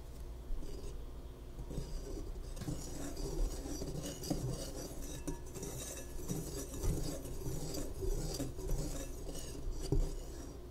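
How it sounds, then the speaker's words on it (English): Baking ingredients with a pinch of salt being mixed quickly in a bowl for mini fruit tarts, soft clinking and scraping of a utensil against the dish in a steady, close, quiet rhythm with no talking. "And then I'm just gonna mix it up really quickly"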